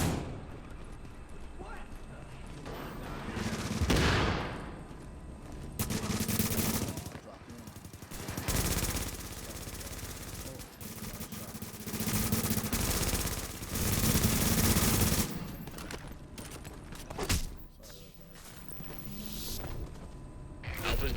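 Sustained gunfire in The Division's Last Stand multiplayer mode, dense bursts of automatic fire from an MP7 and other weapons, loud and continuous, with a game announcer's voice heard over the shooting.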